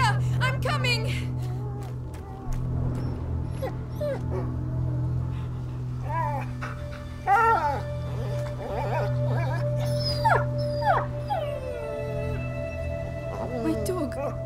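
A dog whimpers and yelps in a medieval video game scene, thin plaintive cries rising over a low steady hum while voices talk around it.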